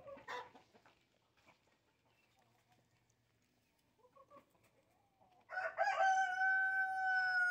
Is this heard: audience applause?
no